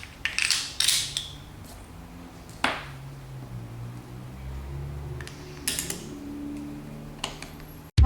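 Sparse metallic clicks, snaps and small scrapes come from close by as a Sig P226 pistol slide is put back together, with quiet pauses between the parts.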